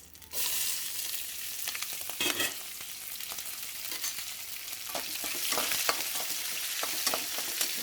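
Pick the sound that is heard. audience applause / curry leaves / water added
curry leaves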